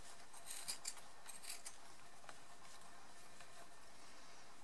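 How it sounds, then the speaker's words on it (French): Scissors snip near the tip of a pompom Christmas tree craft, trimming the yarn branches; a few quick, soft, close cuts cluster early, then faint scattered snips over a quiet background. "Et en venant simplement couper ici vers la pointe"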